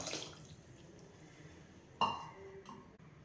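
Chicken cooking water is poured onto rice for a country chicken biryani, a faint, brief splash and trickle with a small clink in a quiet kitchen.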